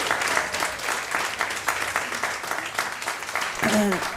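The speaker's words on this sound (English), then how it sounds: "Nice long applause." Audience applause fills the room as a dense, steady wash of clapping, with a brief voice cutting in near the end.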